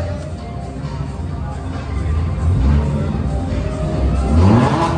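A supercar at a car meetup in Mohali revs its engine in two low, rising surges over a steady idle rumble. The engine sounds close and fairly loud, with the second rev climbing higher near the end.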